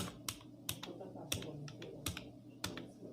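Keys clatter on a computer keyboard in quick irregular bursts of close, crisp clicks, with louder taps standing out over a faint room background.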